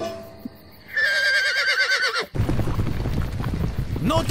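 A horse gives a loud, close whinny in a Harriet Tubman story scene, followed by a dense clatter of hooves moving off. Shouting may come through faintly.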